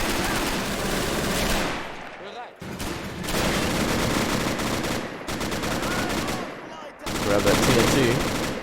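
Fierce, dense gunfire from a World War II battle in Men of War: Assault Squad 2, continuous machine gun rattles and rifle shots layered in heavy sustained volleys with brief pauses, while a voice talks briefly over it.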